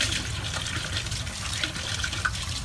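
Cold or warm tap water runs steadily into a sink while an airbrush filter is rinsed clean, a close, continuous hiss of flowing water with no voices.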